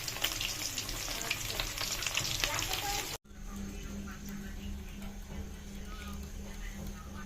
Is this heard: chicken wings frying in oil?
yes